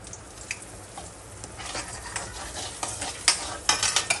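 Cumin, fenugreek, dried red chillies and asafoetida frying in hot oil for a gongura pickle tempering, a light crackling sizzle with scattered scraping stirs that grow busier toward the end, close and fairly quiet.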